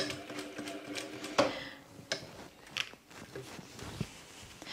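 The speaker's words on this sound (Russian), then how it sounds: "Теперь складываем вместе и прокладываю строчку." A sewing machine stitches a seam on a linen blouse with contrasting thread, a quiet, uneven mechanical whirr with a few sharper clicks and knocks, heard alone in a calm room.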